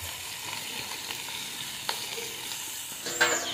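Onions fry in oil in a kadhai, giving a steady, close sizzle and crackle throughout with a couple of brief clinks near the end and no talking.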